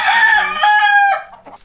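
A rooster crows near bamboo cockfighting pens in Ubud, Bali: one loud, close, drawn-out call that sustains strongly then trails off at the end.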